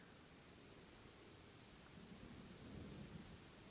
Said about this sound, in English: I hear the thunder in the background